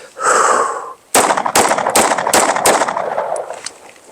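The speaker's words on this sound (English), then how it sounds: "I'm gonna give it 5 more shots and see what we get" Five sharp gunshots hit 3A soft body armor during a ballistic torture test. The loud, close reports come in quick succession about a third of a second apart, after a brief rushing noise.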